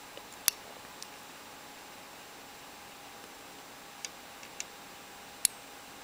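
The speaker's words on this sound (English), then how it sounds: "You can hear the sound of the relay switching." A few sharp, isolated relay clicks pop out of a faint hiss, spaced irregularly over several seconds, small and close like a switch snapping, from a homemade relay card.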